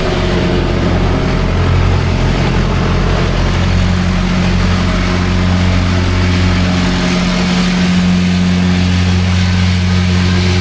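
Loud, steady rumble of a tractor engine running with a large tanker trailer hitched, a continuous heavy low drone with constant humming tones and no voices.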